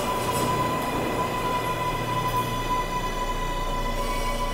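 Subway train passing loudly, a continuous rumbling roar of rail noise with a thin high wheel squeal running through it, steady throughout.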